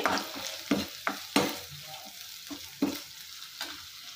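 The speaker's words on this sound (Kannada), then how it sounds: "ಇವಾಗ ಶುಂಠಿ ಬೆಳ್ಳುಳ್ಳಿ ಪೇಸ್ಟ್ ಹಾಕ್ತಾ ಇದ್ದೀನಿ ಪೇಸ್ಟ್ ಹಾಕ್ಬಿಟ್ಟು ಹಾಂ ಇಕ್ಕಿದ್ದೀನಿ ಇದನ್ನು ಫ್ರೈ ಮಾಡಿ" Ginger garlic paste fries with onions in a pan for an egg curry, a steady sizzle broken by repeated sharp scraping stirs of a spoon at an uneven rhythm, close and moderately loud, with no voices.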